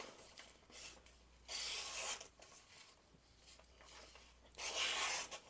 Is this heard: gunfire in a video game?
no